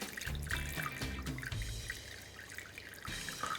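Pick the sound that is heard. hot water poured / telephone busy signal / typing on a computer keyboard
hot water poured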